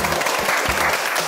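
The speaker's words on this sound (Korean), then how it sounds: "아, 박수 한번 치고" A small group of people clapping their hands on a Korean variety show set, brief, dense and close.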